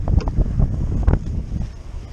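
Strong wind gusting against the microphone during a fishing outing on a river, heavy low buffeting and rumble in uneven bursts, loud and close, with no talking.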